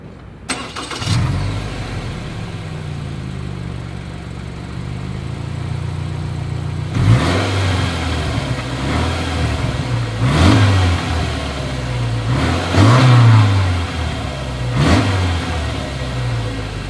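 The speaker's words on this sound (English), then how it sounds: "As always, here is that exhaust clip." A 2021 Subaru Forester with a single exhaust idles steadily, then revs up in four or five sharp blips, each rising briefly and falling back to a low idle rumble, heard up close with no talking.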